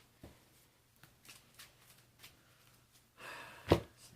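Pokémon trading cards from a Sun & Moon Hidden Moon theme deck shuffled by hand, heard as quiet, close papery riffles and taps that build into a louder burst near the end.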